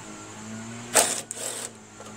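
A 3/8 socket works a carburetor bolt on a Craftsman push mower with a Briggs Quantum 4.75 engine, giving one short whirring, clicking burst of under a second over a faint background hum.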